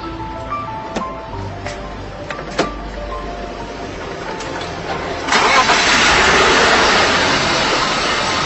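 A car engine cranks with a few clicks, then catches at about five seconds and settles into a loud, steady running rumble up close.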